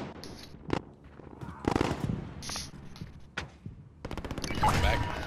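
Gunfire in the Call of Duty: Modern Warfare video game, with several sharp shot bursts and rapid volleys spread through the clip, mixed with game ambience while players talk over it.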